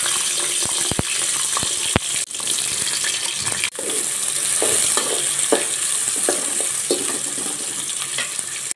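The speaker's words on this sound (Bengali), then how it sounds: "পেঁয়াজটা একটু ভাজা ভাজা হয়েছে," Chopped onions frying in a pot with garam masala and bay leaves, a continuous close sizzle broken by sharp knocks and scrapes of a spoon stirring, with no talk.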